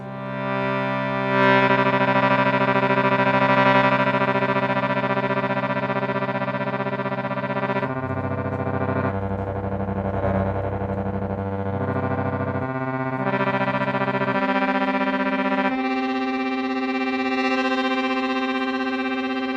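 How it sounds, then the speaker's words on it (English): Sustained reedy harmonium chords with a wavering, pulsing tremolo on the bass reeds, low bass notes shifting through a slow progression, loud and continuous. "This is a tremolo on the bass reeds."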